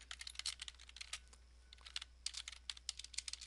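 Rapid typing on a computer keyboard, close and clear, with bursts of clustered keystrokes broken by a short pause midway, then a fresh flurry of taps; no voices.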